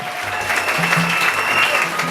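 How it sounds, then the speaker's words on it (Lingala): Congregation applauding for Jesus at a church service, steady continuous clapping with crowd noise for the full stretch, fairly loud and close, with a faint tonal hum beneath. "acclamez pour Jésus leta maboko pona Yesu Masia"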